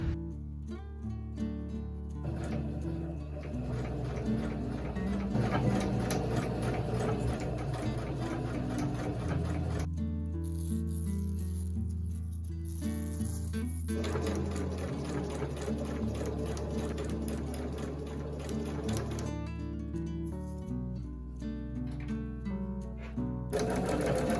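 A sewing machine runs steadily while stitching boning channels into a prom dress, its motor humming continuously with brief slowdowns around pauses, close and fairly loud with no talking.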